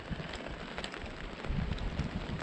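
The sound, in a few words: rain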